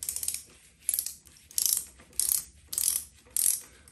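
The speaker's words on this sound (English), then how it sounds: "that one tightens up with a 12mm socket, and make sure it's got the crush washer on there also" Ratchet wrench with a 12mm socket tightening a bolt on a Subaru Impreza six-speed gearbox, five short bursts of rapid metallic clicking in a steady back-and-forth rhythm, close and fairly quiet.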